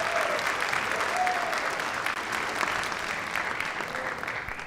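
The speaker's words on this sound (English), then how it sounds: "Give them a round of applause" Sustained audience applause fills a school spring concert hall, dense and steady throughout, tapering slightly toward the end, with faint voices underneath.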